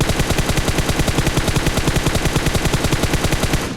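Gunfire in a video game heard through a Plextone GS1 Mark II sound card and headphones: loud, rapid automatic gunfire in a steady unbroken burst of evenly spaced shots, close and punchy, tapering slightly at the very end.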